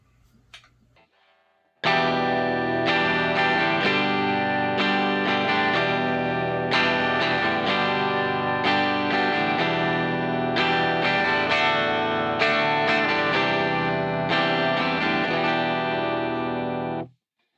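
A distorted Les Paul-style electric guitar on its treble pickup plays steady chords with a bright, trebly edge, starting after a short quiet moment and ringing on loud without pause.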